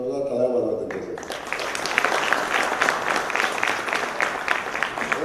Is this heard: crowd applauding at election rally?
yes